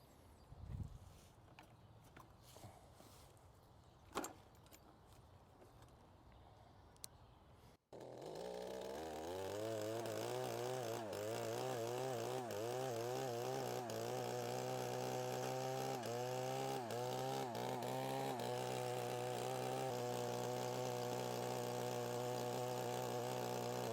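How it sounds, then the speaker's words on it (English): A small Mantis garden tiller engine starts after a few quiet seconds of faint knocks, then runs loud and steady, its pitch surging and bogging rhythmically as the tines bite into yard soil. "Mantis tilled right in the same spot the yard boss wouldn't even dig halfway in"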